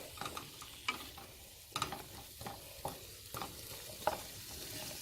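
Vegetables being stirred in olive oil in a skillet for a taco dish, with a soft steady sizzle and periodic spoon scrapes and taps at a moderate, close level, no voices.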